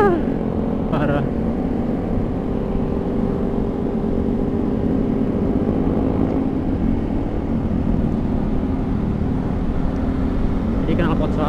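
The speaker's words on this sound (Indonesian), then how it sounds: "Knalpot Tritec itu yang knalpot 3 suara ya, yang ada 3 mode." Kawasaki ZX25R motorcycle fitted with a Tritec exhaust drones steadily while riding, a continuous engine hum with wind rush and faint talk over it.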